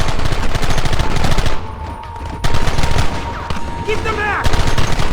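Rapid bursts of gunfire from the Western video game Red Dead Redemption crackle almost continuously, loud and close, with brief lulls and faint distant shouting between volleys.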